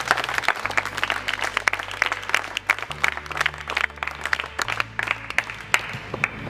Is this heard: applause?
yes